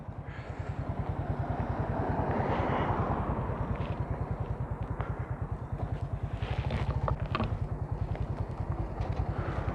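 Close, steady low thumping from a motorcycle with a knocking fault as it pulls out through a narrow gate on its first ride in six months. The rhythmic beat swells slightly, then settles to an even pulse.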